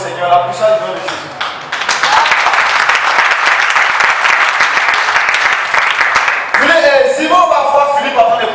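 A church congregation bursts into loud, sustained applause and acclamation for the Lord, a dense roar of clapping and cheering that follows a preacher's voice and gives way to speech again near the end.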